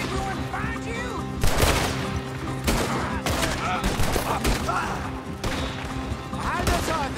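Heavy gunfire in a Red Dead Redemption 2 street shootout, with loud bursts of rapid shots repeating steadily amid constant battle noise and crashing impacts.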